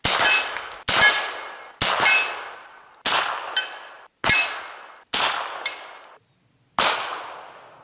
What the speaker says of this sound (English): I'm going to try to do some long distance carbine shots